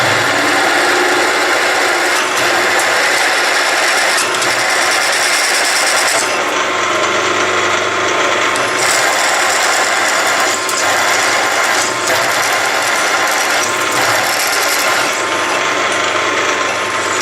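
A machine tool cuts a CV joint part at 540 RPM, a loud, dense, continuous grinding whir with a rattling mechanical texture that holds steady throughout.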